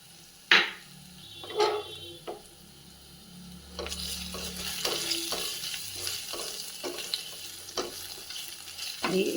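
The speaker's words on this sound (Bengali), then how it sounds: "এটা একদম ভালো করে রসুনটা একটু ভেজে নেব" Garlic, cumin and a dry red chilli fry in hot ghee. A few sharp utensil clinks come first, then a steady, close crackling sizzle builds and continues, broken by occasional stirring knocks.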